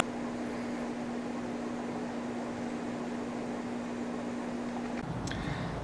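An air conditioner with a failing fan motor gives a steady electrical hum over loud broadband rushing noise; the hum cuts out near the end, followed by a brief click.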